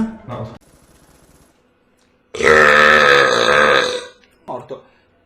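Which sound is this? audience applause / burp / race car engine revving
burp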